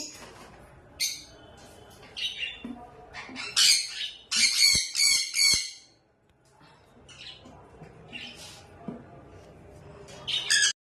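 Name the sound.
pet bird squawking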